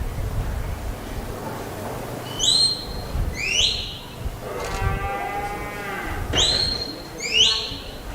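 Cattle lowing in a rodeo arena during an open cattle competition, several moos at moderate distance rising over a steady crowd and arena rumble, with faint voices in the background.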